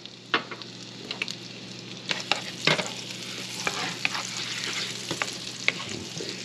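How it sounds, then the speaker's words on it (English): Chopped shallot sizzles in butter in a hot pan, a close, steady frying hiss broken by spoon scrapes and taps as it is stirred, with no talking. "So here I have like a half of a chopped shallot. So I'm going to add to our butter."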